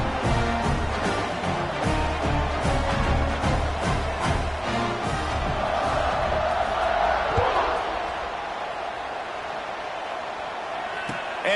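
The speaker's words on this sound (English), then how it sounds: "this crowd is feeling themselves after that last drive" Football stadium crowd roaring and cheering during a kickoff after a touchdown drive, a dense sustained wall of voices with shouts and whoops that eases slightly toward the end, under commentary.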